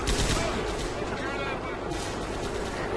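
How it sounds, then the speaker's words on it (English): A dense, continuous roar of rapid gunfire, including M60 machine guns, fills a zombie-fighting session of Left 4 Dead 2, loud and unbroken throughout with voices faintly underneath. "Hear that weapon."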